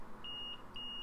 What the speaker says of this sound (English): I'll put this in continuity mode and expect it to beep.